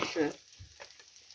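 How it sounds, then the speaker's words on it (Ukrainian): Onions sizzle softly in a frying pan while a spoon scrapes and stirs in a few short strokes, fairly close and quiet. "я перемішую так гарненько перемішую, щоб воно розподілялося по всій цибульці"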